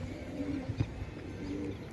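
Racing pigeons give a couple of soft, low coos amid faint outdoor background noise, fairly close but quiet.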